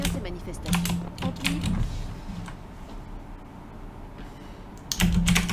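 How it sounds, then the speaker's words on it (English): Computer keyboard typing comes in bursts of sharp clicks at the start and end, with a quieter stretch between and a voice talking at times. "If you like the keyboard sounds"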